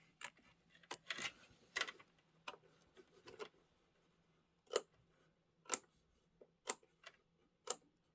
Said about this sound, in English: This is where it comes in handy to learn to cut with both hands.